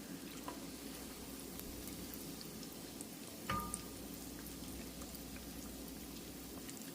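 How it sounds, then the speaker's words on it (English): Apple cider donuts fry in hot oil, giving a steady, quiet bubbling sizzle throughout, with one brief clink partway through. "we're frying the donuts"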